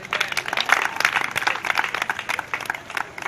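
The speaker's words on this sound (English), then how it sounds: "I'm gonna clap for Jesus" Dense, steady clapping from a church congregation in praise worship, many hands beating fast and continuously at close range with a crowd murmur beneath.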